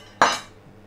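A single crisp knock as a knife cuts through a plum tomato onto a cutting board, close and brief, fading quickly.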